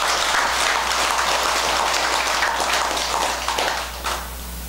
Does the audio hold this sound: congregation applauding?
yes